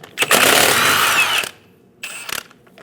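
Power ratchet removing a wheel from a Chevrolet Silverado 2500 HD, a loud close whirring burst lasting over a second, then a shorter second burst after a brief pause.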